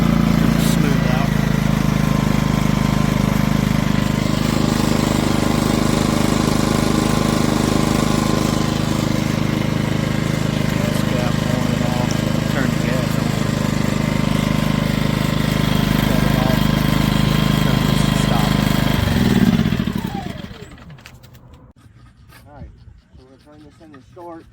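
An ERAYAK 2400W portable inverter generator runs with a steady, loud, close engine hum for about twenty seconds, then winds down and shuts off, leaving a quiet background.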